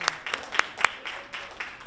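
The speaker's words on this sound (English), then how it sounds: "Keep clapping." Sparse, scattered applause from the audience at a youth oratorical contest, a handful of distinct claps ringing out fairly softly in a hall before fading.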